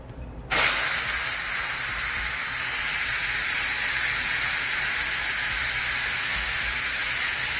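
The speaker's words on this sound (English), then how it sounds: "there's a manual pressure release system" A Tefal pressure cooker's manual pressure release opens abruptly and vents steam in a loud, steady, close hiss that holds without letup.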